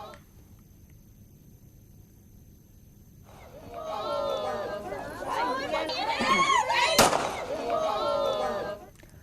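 A groom fires celebratory gunfire at his wedding: one sharp, loud crack bursts out of dense crowd chatter and shouting that swells and continues around it.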